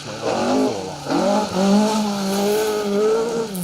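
Mark II Ford Escort rally car at the Roger Albert Clark Rally stage, engine revving high and rising in pitch as it blasts past nearby. A short, loud pass with gear changes and no talking.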